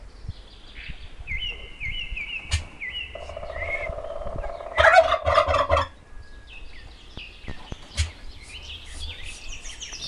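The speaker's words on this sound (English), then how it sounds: "Turkey." A turkey gobbles in several rapid rattling bursts, loud and close, with chirping birds and other fowl calling around it on a farm.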